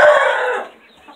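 A chicken gives one short, loud call that lasts about half a second and then fades to quiet.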